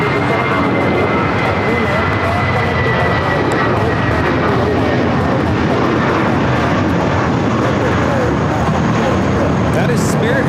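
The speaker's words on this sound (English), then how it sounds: "That is Spirit Airlines 2018 taking off to Chicago on the A320" Spirit Airlines Airbus A320 taking off from LAX, a loud continuous engine roar filling the scene throughout, with people talking over it.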